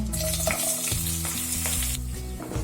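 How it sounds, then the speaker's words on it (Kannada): Cut green chillies hit hot coconut oil in a pan, giving a loud close crackling sizzle with stirring and scraping noises, steady across the short stretch with no voices. "ಈಗ ಹಸಿಮೆಣಸು ಹಾಕ್ತಿದ್ದೀನಿ."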